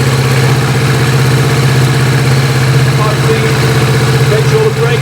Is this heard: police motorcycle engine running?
yes